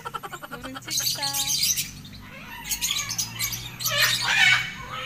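Lovebirds at a zoo give a run of bright chirps and squawks, nearby and moderately loud, in bursts over a noisy outdoor background with a low, steady hum.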